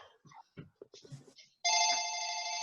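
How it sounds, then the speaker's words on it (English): A telephone rings in a parish council meeting room, a loud steady electronic trill that starts abruptly after a stretch of talk and carries on alone to the end. "our phone's ringing"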